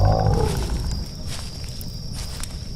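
A low growling wild animal effect like a wolf, rough and rumbling with faint clicking textures, opens strongly and trails into a dark, rustling ambience with soft steps, close and ominous.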